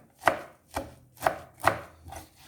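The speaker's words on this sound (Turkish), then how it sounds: "Böyle böyle incecik incecik kıyacağım şimdi." A knife finely chops freshly picked beet greens on a board with five close, evenly spaced thuds about every half second, clear against a quiet background with no speech.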